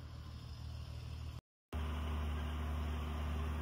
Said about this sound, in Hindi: मैं मार रहा हूँ हल आज जमीनों को ट्रैक्टर पे